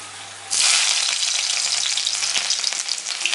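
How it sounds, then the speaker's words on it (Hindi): Garlic dropped into hot oil that already holds fenugreek seeds for a Bengali dried fish curry, bursting into a loud, steady close sizzle after a quiet start. "अब इसमें हम लहसुन डालेंगे।"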